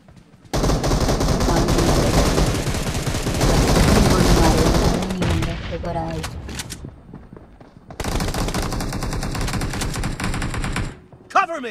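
Gunfire in the mobile shooter game PUBG Mobile Lite, with sustained automatic bursts, a short gap, then another long volley and a final shot.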